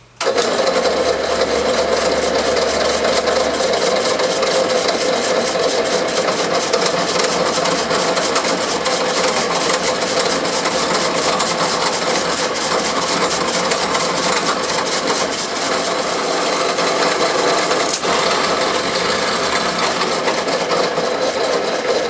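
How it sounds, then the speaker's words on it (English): A continuous mechanical motor drone hums steadily throughout, close and fairly loud, with faint rhythmic texture like a drill press running and boring through wood. "We're going to fire up the drill press"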